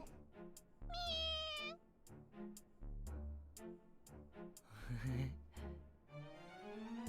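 A cartoonish cat meows repeatedly from the video game Megaton Musashi W: Wired: a string of short and drawn-out meows, some high and whiny, sounding close and clear among brief musical or effect tones.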